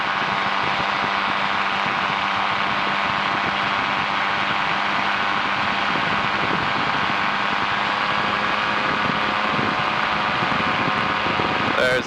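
Yamaha Phazer snowmobile engine powering a converted light airplane in cruising flight, a steady loud drone with constant tonal hum and wind noise throughout, no voices.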